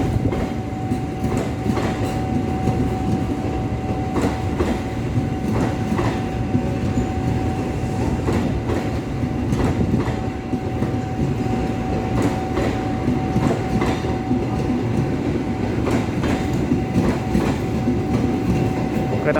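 Gumarang passenger train of executive, dining, power and business cars moving along the platform at a station, a steady loud rumble and rolling clatter of wheels that runs throughout with no talk.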